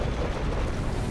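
A fire bomb bursts in the video game Shadow of War as a loud, dense, low roar that rumbles steadily for about a second with no break.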